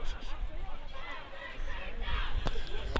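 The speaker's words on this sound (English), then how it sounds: "The crowd applaud excellent defence" A football crowd at a country semi-final at Freeling Oval responds with a swelling murmur and cheering, moderately distant, under a commentator's voice.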